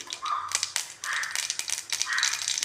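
Mustard seeds popping and spitting in hot cooking oil in a pan, a close, dense, continuous crackle with sharp bursts throughout.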